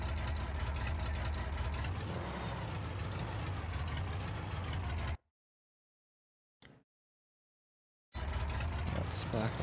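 A tractor engine reversing in the Farming Simulator 22 video game, a steady, loud mechanical drone that cuts out abruptly for a few seconds of silence, with a brief blip in the gap, then resumes.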